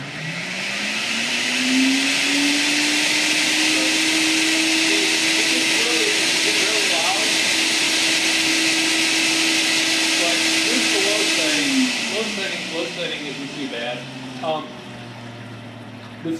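A Sirena water-based vacuum system with a roughly 1,200-watt motor runs loudly as a steady, rising whine that holds for about ten seconds, then winds down into a churning, watery rumble.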